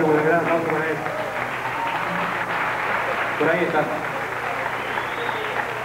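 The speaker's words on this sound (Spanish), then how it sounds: "También un gran aplauso para él." An audience at a live music performance applauds a guest, a broad, continuous wash of clapping running throughout, with a voice speaking over it.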